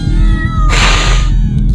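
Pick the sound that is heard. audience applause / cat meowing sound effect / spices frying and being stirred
cat meowing sound effect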